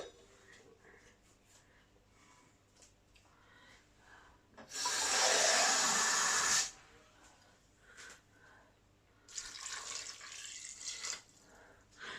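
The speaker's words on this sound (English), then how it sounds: "We're just going to add some water into this now." Water pours into a pan of wartime curried beef in two bursts, a loud steady splashing stream lasting about two seconds, then a quieter, shorter pour later, with faint kitchen noises between.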